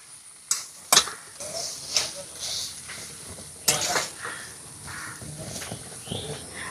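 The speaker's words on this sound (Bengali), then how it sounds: "এবারে মশলার সাথে খুব ভালো করে মিশিয়ে নেব।" A utensil scrapes and clinks against a pan while grated potato filling with spices is stirred over a low gas flame, producing sharp, irregular knocks over a faint sizzle.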